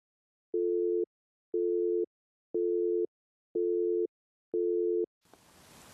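A telephone line beeps five times in an even, steady pattern of identical tones with short gaps, clean and prominent, before cutting to a brief rush of open-line noise as a call to a support phone-in show connects.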